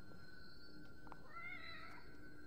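A cat meows in The Evil Within video game, a couple of short close calls over a low, steady ambient game hum, with no talking.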